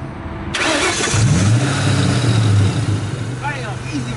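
An engine on a Terminator Cobra cranks briefly and catches, then settles into a steady, slightly rising idle hum, with voices talking over it nearby.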